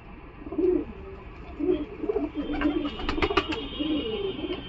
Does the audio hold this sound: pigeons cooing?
yes